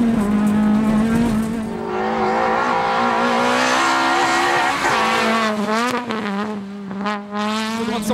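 A Peugeot 206 rally car on a Limousin rally stage, its engine loud and close throughout, the pitch rising and falling as it brakes hard and sweeps through corners, with gear changes and brief tire scrub; a co-driver's voice reads pace notes over it.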